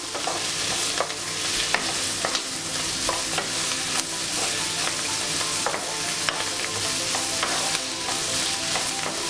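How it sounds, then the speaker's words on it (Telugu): Garlic cloves being stirred into cabbage chutney in a hot pan give a steady sizzle throughout, broken by repeated scraping strokes of the spoon at a close, even level. "అది వెల్లుల్లి రబ్బులు వేసుకుని మనం బాగా కలిపేసుకుందాం."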